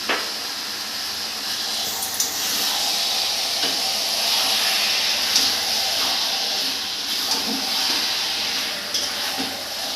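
Chicken sautéing in a pan for biryani, a steady broad hiss of sizzling and steam running throughout with a few faint clinks, no speech.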